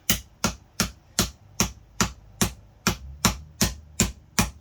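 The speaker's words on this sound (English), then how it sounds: "Let's hammer this guy out." A hammer strikes a sterling silver candlestick in a steady, even rhythm, about a dozen sharp ringing blows, close and loud with nothing else around.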